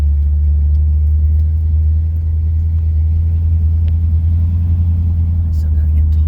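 A 1963 Mercury Monterey, back after years off the road with an unadjusted carburetor, idles close by in a steady deep low rumble that holds even throughout.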